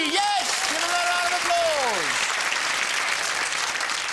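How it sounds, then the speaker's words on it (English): Loud studio audience applause on a 1997 game show, sustained and dense throughout, with a descending musical or electronic sting sounding over the first couple of seconds. "Give him a round of applause there."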